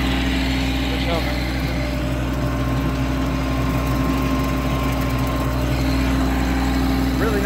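Tractor engine running steadily while bush hogging a field with a four-foot cutter, a loud, constant low drone with a mechanical hum, and speech over it at points.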